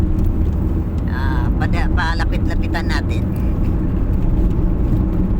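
A convoy of eight cars drives one after another on a road toward a landing pad ribbon cutting in Naga City, with steady close engine and tire rumble throughout while someone talks over it.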